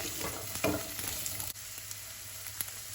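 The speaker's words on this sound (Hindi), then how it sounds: "इसके बाद 2 प्याज हमने यहाँ पर काट लिए हैं, ऐड कर देंगे।" Two chopped medium onions go into a hot pan with oil and are stirred for restaurant-style paneer methi chaman, giving a close, steady sizzle broken by scraping stirs, with no voices.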